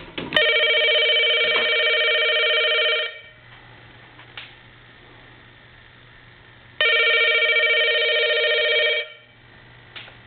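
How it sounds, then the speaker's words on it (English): A Crosley wood wall telephone rings nearby in two long bursts of about three seconds each, with a quiet pause of several seconds between them. "And we're going to ring the phone now."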